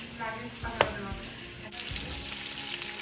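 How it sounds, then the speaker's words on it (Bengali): Pieces of shol (snakehead) fish fry in hot oil while being turned, giving a steady close sizzle broken by a few sharp spatters and clacks, with no talk. "যতক্ষণে মাছগুলো ভাজা হচ্ছে"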